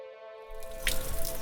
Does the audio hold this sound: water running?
yes